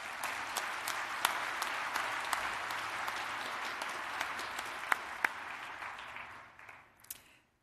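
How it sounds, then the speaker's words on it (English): Audience applause from a large conference crowd at an evening opening session, a dense steady wash of clapping with a few sharp claps standing out, fading out near the end. "let's thank all of them by giving them a big applause"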